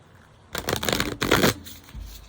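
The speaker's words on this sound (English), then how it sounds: "Let me do some shuffles." Marseille tarot cards, too thick to bridge, are riffled and shuffled in two quick bursts of rapid fluttering clicks, close up, with a brief pause between them.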